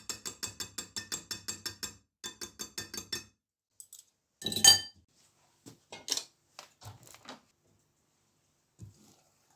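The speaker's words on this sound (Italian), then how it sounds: "mescolo il tutto" Rhythmic clinks of a utensil stirring ricotta cake ingredients in a bowl, a quick regular run of taps that pauses, resumes, then breaks into scattered louder knocks and clatters, close and alone.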